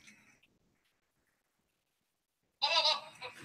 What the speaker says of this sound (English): That's what goats sound like